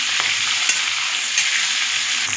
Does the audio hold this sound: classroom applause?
no